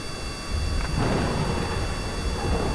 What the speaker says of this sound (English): Here's a thunderstorm.